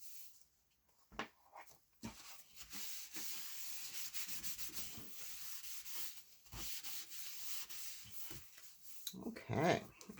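Paper on a handmade album being burnished around a magnet, a close scratchy rubbing that scrapes on steadily for several seconds, with a few louder taps and a short clatter near the end.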